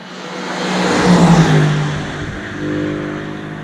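A 2020 Mercedes-AMG GLC63S Coupe with a 9-speed automatic accelerates hard from a stoplight, its engine swelling into a loud, close roar that peaks, eases through a gear change and builds again, with no talking.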